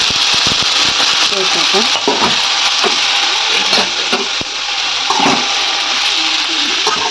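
Steady loud sizzle of cabbage frying in a pan, with the scrape and clatter of a spoon stirring it at irregular intervals over several seconds.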